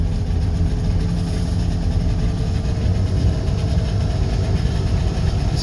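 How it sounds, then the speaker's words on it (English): A two-stroke engine in an old Subaru 360 van runs steadily on two cylinders, a dense, rough, constant drone heard close and loud without pause. "There she goes. Running on one cylinder."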